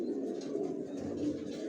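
Racer pigeons coo softly and steadily in their loft, a continuous low murmur of several overlapping birds.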